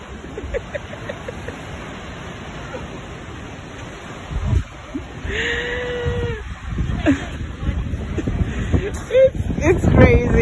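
Strong wind gusting across a sandy Michigan beach, roaring and buffeting the microphone in a constant rush, with people talking loudly over it in the second half.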